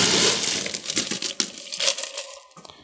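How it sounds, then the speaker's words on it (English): Hard, clattering crunches as ice cubes tumble into a metal container, a quick series of knocks and rattles that taper off. "I'm gonna get some ice in my shaker."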